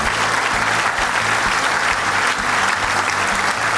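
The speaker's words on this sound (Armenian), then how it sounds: "ձեր բարձր ծափարությունների ներքո" A large audience at a comedy league final claps loudly and steadily, a dense wash of applause with no pause across the whole stretch.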